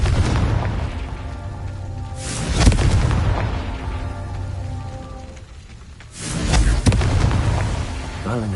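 Blast of the Confringo fire spell in a Harry Potter video game, two loud booming bursts with rumbling tails spaced a few seconds apart over an ambient game soundscape.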